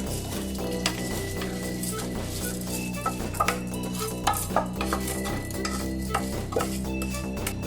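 Rice tipped into a pan for a spicy ice cream and stirred in, a steady run of scraping and clinking utensil-on-pan strokes close by, with a low tonal hum underneath.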